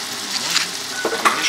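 Seafood frying in a pan for a seafood pasta, a steady close sizzle with soft stirring scrapes and a few brighter crackles, no voices.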